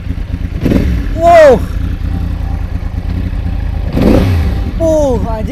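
A big sport motorcycle engine revs hard in two loud bursts, climbing and falling in pitch over a steady close idle rumble, with a man's exclamation at the start.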